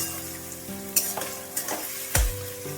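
Medium-sliced onions fry in oil for chicken polao, a soft sizzle punctuated by a few distinct spatula scrapes and knocks against the pan, one sharper thud near the end, over a faint steady tonal hum.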